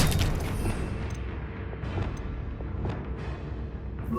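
A Confringo spell blast in Hogwarts Legacy, a deep booming explosion with a rumbling low-end tail that stays loud and dense throughout, with no talk over it.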